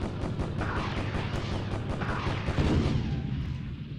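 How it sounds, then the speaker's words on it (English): Upgraded guns fire in the video game Beyond Pearl Harbor, a dense, continuous rumble of rapid booming shots with deep low-end thumps, steady and loud throughout. "these upgraded glow guns are beast guns"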